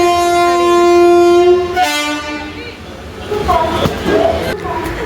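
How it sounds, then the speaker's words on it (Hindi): Passenger train arriving at an Indian railway station: a loud sustained horn blast, then rumbling wagons and clattering wheels as it pulls in, with station noise and voices around it. "11:30 बजे हमारी ट्रेन आ गई"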